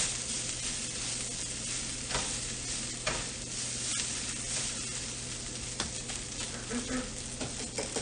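White wine hits a hot pan to deglaze it, giving a steady sizzle mixed with scraping and stirring clicks, fairly quiet and continuous with no talking.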